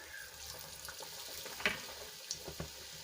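Leftover-roti snack batter fries in hot oil in a kadai, a soft steady sizzle with a few sharper crackles and pops, close and moderately quiet.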